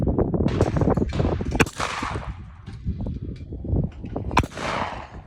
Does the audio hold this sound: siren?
no